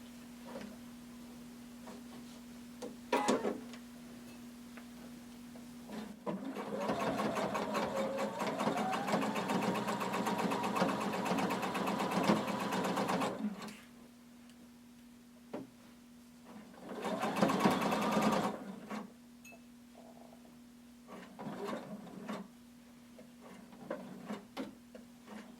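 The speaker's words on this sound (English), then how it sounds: "going to sew all the way around using 5/8 of an inch seam allowance" A sewing machine stitches a seam on a hooded tunic with a regular-length stitch, in two runs: a long steady whir of about seven seconds, a pause, then a shorter burst, close and clear, with faint handling clicks between.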